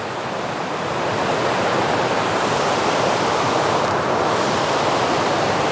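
The Flosh waterfall at Buckingham, swollen with floodwater, roars in a loud, unbroken broadband rush that holds steady throughout, heard close with no voices.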